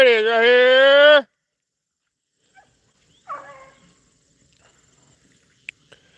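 A female rabbit-hunting hound in the field gives one long drawn-out bay, followed by quiet, a brief fainter yelp and a few small distant sounds.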